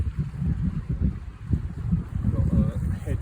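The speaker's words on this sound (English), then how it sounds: "Got a headwind, southwest headwind." A southwest headwind gusts and buffets hard against the microphone on a snowy Norwegian shore, with low rumbling pulses that rise and fall unevenly and faint talk underneath.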